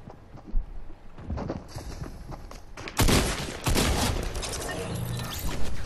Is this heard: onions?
no